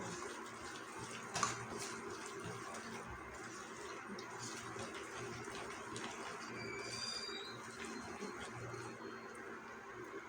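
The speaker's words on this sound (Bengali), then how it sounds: "এবার জল দিয়ে দিচ্ছি" Water is poured into a bowl of pumpkin-flower pakora batter flavoured with whole cumin. A steady, moderately faint stream runs throughout with a brief louder splash near the start, and no voices.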